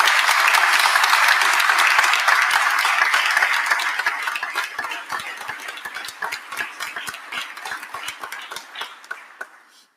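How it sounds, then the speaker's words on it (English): Dense crowd applause at a union rally celebrating District Council 33 workers returning after a strike, loud at first, then thinning into scattered individual claps as it fades. "Give labor a round of applause."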